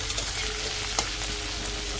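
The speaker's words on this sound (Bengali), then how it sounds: "পাশে যে পেঁয়াজটা ভাজি ভাজা হয়ে গেছে" Onions frying in a pan of hot oil for a fish-head rice dish, giving a close, continuous sizzle with occasional scraping clicks of stirring and no voices.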